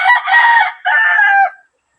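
A loud, close rooster crow, drawn out in two long phrases before cutting off into silence.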